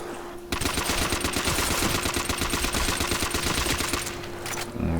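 Rapid automatic gunfire rattles continuously for several seconds while shooting zombies in the Nacht Der Untoten video game, loud and evenly spaced, fading slightly toward the end.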